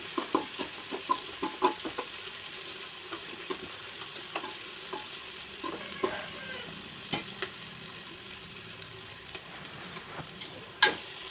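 Onions and capsicum, salted, sauté in a pan for vegetable noodles: a steady close sizzle with scattered clicks and scrapes as a utensil stirs them, with no voices.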